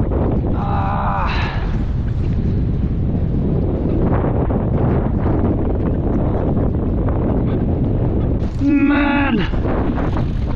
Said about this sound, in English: Wind in my face.